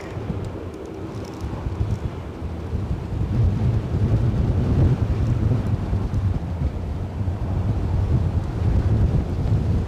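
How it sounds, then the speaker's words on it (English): Strong gusting wind at Aberdeen heliport buffets the microphone with a deep, roaring rumble that rises and falls unevenly, loud and constant for the whole stretch. "That wind is whipping up a bit."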